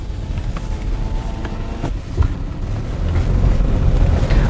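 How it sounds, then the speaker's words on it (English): A 2016 Kia Sorento AWD on 19-inch alloy wheels with a 260-horsepower engine drives off-road: a steady low rumble of engine and tires with wind buffeting the microphone, growing slightly louder toward the end. "But to save some time, I'm going to do my off-roading here. A little bit of spin, roll the window down."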